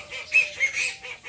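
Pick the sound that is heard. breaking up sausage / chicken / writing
chicken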